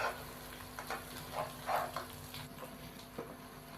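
Ginger garlic paste fries in a pan for dhaba-style dal chana, with a continuous, moderate sizzle and crackle and a few soft stirring scrapes. No voice is heard.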